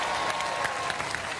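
Steady applause from a studio audience after a Robot Wars robot-combat bout, with dense, continuous clapping that stays even and loud throughout, lightly mixed with crowd noise.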